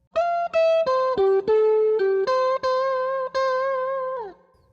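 A short electric guitar phrase of clean, ringing single notes played one after another, ending on a held note that slides down and fades.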